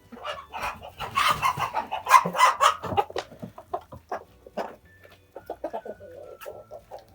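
Bielefelder, Barbezieux and White Leghorn chickens cluck and squawk nearby in a busy run of calls, louder at first, then settling into softer, scattered clucks with no one speaking.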